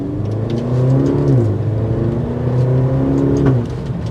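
A Maserati Grecale Modena pulls away with a rising engine drone that swells and shifts pitch through the run. A sharp exhaust crackle sounds near the end before the engine settles.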